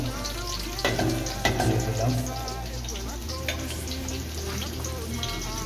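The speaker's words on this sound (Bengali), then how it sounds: "এবার আমি এখন ঝাল পেঁয়াজ এবং রসুন কোচানো" Chopped chilli, onion and garlic frying in oil in a pan, a close, continuous sizzle with a few louder crackling bursts near the start, then a steady hiss over a low background hum.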